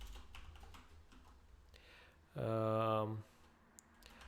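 Keys clatter on a computer keyboard in a run of soft, quick taps. A voice briefly hums or speaks over them midway, and the typing resumes faintly afterward.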